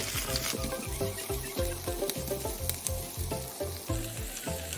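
A handful of green onions sizzles in a hot frying pan beside pan-fried chicken, a steady close crackle of oil with quick repeated stirring or scraping strokes throughout.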